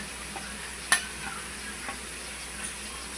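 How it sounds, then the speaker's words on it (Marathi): Oil sizzles softly in a pan as turmeric and chili powder go in for Konkani chicken, a steady low hiss broken by a sharp clink and a few faint taps of a spoon. "आता टाकणार हळद पावडर, मिरची पावडर."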